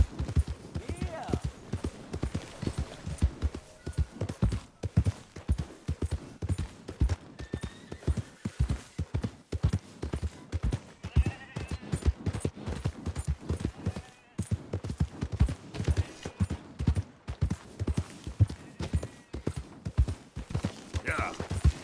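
Horse hooves clip-clopping in the Red Dead video game, a steady rapid rhythm of close, crisp hoofbeats running throughout with brief voices and a whinny in between.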